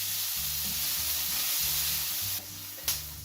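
Onions and peppers sizzle and fry steadily in a pan, a close, continuous crackling hiss with a brief stir or shift partway through.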